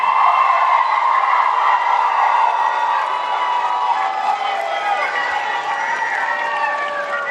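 Large wrestling arena crowd cheers and shouts in a continuous loud roar that fills the whole stretch without letting up.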